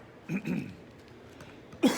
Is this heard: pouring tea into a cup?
no